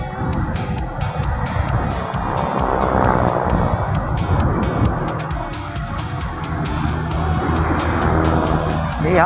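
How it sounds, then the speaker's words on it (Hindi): Steady road traffic on a one-way street, with cars rolling past close by in a continuous broadband rumble and occasional sharper swishes of passing vehicles. "यार गाड़ियाँ यहाँ पे क्यों आ रही है, वन वे रोड पे क्यों आ रही है भाई?"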